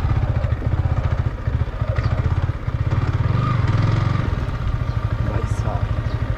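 A motorcycle engine chugs and revs as the bike sets off and rides, with a steady throbbing mid-pitched rumble throughout and a voice talking over it.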